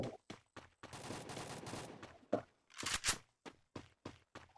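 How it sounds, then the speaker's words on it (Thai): Rapid bursts of gunfire from above in the shooter game Free Fire, sharp cracks in quick rhythmic clusters with a longer sustained volley, fairly close and loud. "เหมือนมีคนยิงอยู่ด้านบน"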